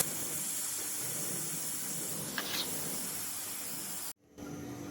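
Steam hisses steadily from a pressure cooker as its whistle weight is lifted after cooking beef yakhni pulao, a broad continuous rush that cuts off abruptly near the end, followed by a quieter residual hiss.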